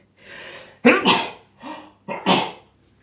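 A person sneezes twice close up, each sneeze preceded by a sharp inhaled breath, with a brief pause between them.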